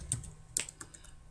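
Typing on a computer keyboard, a few quiet, separate key clicks spaced irregularly over a second or so, close to the listener with no talking.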